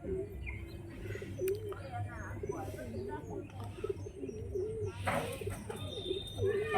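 Pigeons coo softly and repeatedly as they file into their coop at dusk, with scattered chirps and a brief wing flutter, while people talk nearby.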